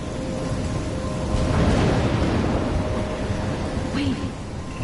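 Stormy weather in the Life is Strange game: a steady roar of heavy rain and wind with a low rumble of thunder swelling in the middle, loud and continuous with no talk.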